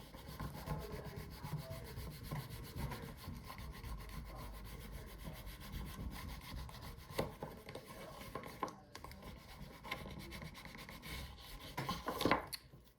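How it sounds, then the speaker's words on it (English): Hinge being burnished by hand after gluing during finishing work, a quiet continuous rubbing and scraping with a few sharper strokes near the end, close and alone. "Bring that down and burnish the hinge."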